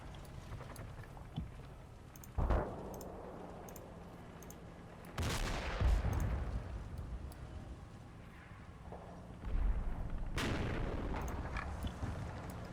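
Mortar shells explode in the video game Combat Mission: three separate heavy booming blasts spaced several seconds apart, each with a rumbling tail, over a low background hum.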